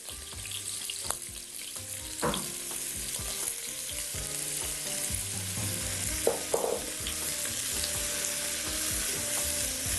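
Onion frying in hot oil in a pan for an Algerian dish, a continuous close sizzle with scraping stirs and a few clinks of a utensil, no voices.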